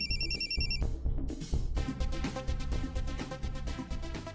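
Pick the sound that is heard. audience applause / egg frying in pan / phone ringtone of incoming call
phone ringtone of incoming call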